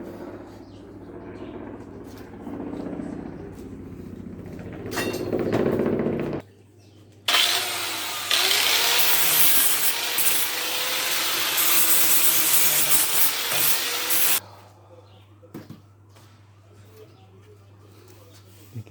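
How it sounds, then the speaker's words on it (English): A flap wheel on a grinder strips old paint from the wooden planks of an old garden bench, a loud continuous abrasive roar lasting several seconds before it cuts off, with quieter handling noise before and after. "I'm using this type of flapper wheel just to take the paint off"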